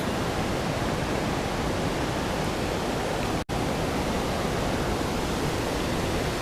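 A waterfall on the South Yadkin River roars as a loud, steady broadband wash, unbroken apart from a split-second dropout midway, with no voices.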